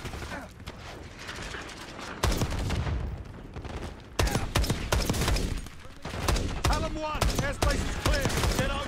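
Loud, heavy gunfire in a Black Ops 6 campaign mission crackles in repeated rapid bursts and volleys, broken by short lulls, amid other battle noise.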